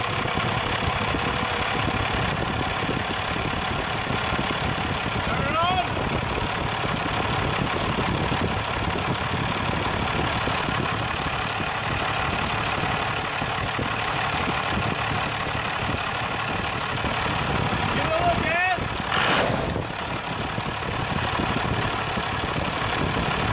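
A Cummins diesel engine idles steadily and loudly for the whole stretch, a continuous low rumble with a slight knocking texture and no speech over it.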